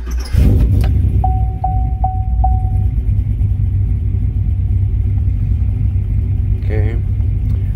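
A cammed LT 5.3 V8 idling with a deep, loping rumble that holds loud and steady, a few short beeps near the start and a brief warbling tone toward the end, while someone talks over it.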